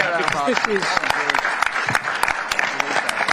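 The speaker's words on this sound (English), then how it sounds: "Let's get a round of applause." Applause at a boxing press conference launching Anthony Cacace vs Jazza Dickens, a mixed burst of clapping with talk layered over it throughout.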